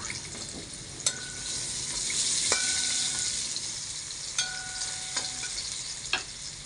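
Ginger dropped into a hot frying pan for chicken and pork rib afritada, a steady close sizzle with a few sharp clinks of a utensil against the pan.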